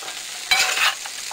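Three sisters chili with beans and tomatoes stirred in hot oil, a spoon scraping through the pot in one short stroke over a steady, soft sizzle.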